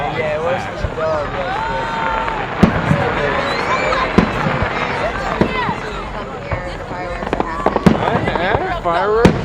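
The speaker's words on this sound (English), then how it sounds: "Have you seen fireworks like this before?" Fourth of July fireworks at Byrd Park in Richmond, Virginia, in 2008 crack and boom in sharp scattered bursts over a crowd's constant chatter and whistles, with several loud reports close by.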